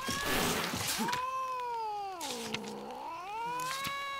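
A cat in The Witcher 3: Wild Hunt lets out a long, drawn-out caterwauling meow with a rising and falling pitch, followed by shorter cries, set against soft game ambience.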